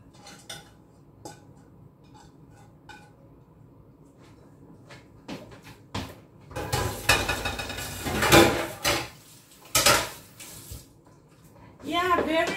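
Grated squash (kalabasa) is scraped and tipped into a bowl in a home kitchen, with clinking utensils and dish knocks growing louder midway, and a person talking over part of it.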